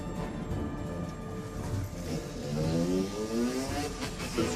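An unregistered off-road dirt bike, ridden on public roads during a police pursuit, revs steadily with rising engine pitch sweeps, loud and close, with no talk over it.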